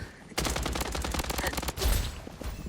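Gunfire in the shooter Blood Strike comes as a loud, close burst of rapid automatic shots in an even rhythm, broken by a brief pause and then a few more scattered shots.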